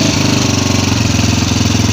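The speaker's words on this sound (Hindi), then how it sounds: "ये देखें दोस्तों, इसमें मोटर बाइक स्टार्ट भी होगी" A Honda CG 125 motorcycle engine idles loudly and close, with a steady rapid chugging pulse that carries on throughout, alone with no talk over it.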